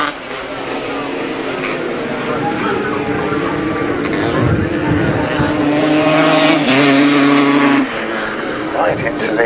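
Grasstrack motorcycles race through their last lap with loud, raw engine whine that climbs and shifts in pitch as the bikes pass, while a commentator talks over the noise throughout.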